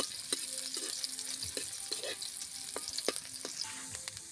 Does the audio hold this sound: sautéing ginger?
yes